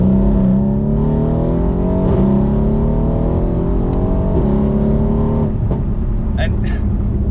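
A 650-horsepower Mercedes C63 AMG V8 pulls hard under steady acceleration, a loud sustained engine drone with rising tone and brief shift breaks, close and continuous.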